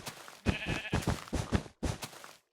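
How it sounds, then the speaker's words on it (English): Sheep in the Minecraft video game bleating in a quick series of short, loud bleats with brief gaps between them and no talking. "I might as well kill the sheep that I've already sheared."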